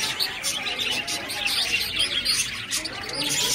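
Lovebirds chirp at a temple near Puri, Odisha, with busy overlapping high tweets close by that continue without a break.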